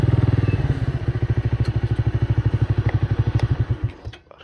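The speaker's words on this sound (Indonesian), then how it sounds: "Ntar kita parkir dulu motor." A motorcycle engine idling nearby as the bike is parked, a rapid loud rhythmic putter that slows and stutters before cutting off at the end.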